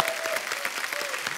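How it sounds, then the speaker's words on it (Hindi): Studio audience at a Hindi TV comedy show bursts into loud, steady applause, dense clapping filling the whole moment with a faint tone running underneath. "इनके लिए जोरदार तालियां।"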